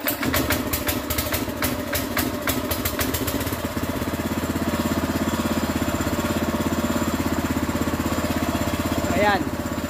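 A gasoline pressure washer engine runs steadily at idle after being started with the fuel on and choke open, a loud even drone with rattling at first, then a smoother, quieter hum, with a brief higher rise near the end.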